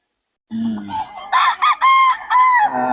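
A rooster crows loudly and close by, a brief low cluck first, then a long, wavering, multi-part call that rises and trails off.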